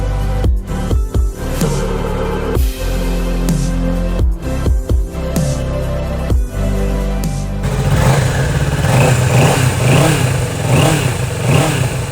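A 2021 Kawasaki Ninja 650 ABS motorcycle engine is blipped in short sharp revs with quick drops back to idle, then held in a longer, rising sustained rev, close and loud with no talking.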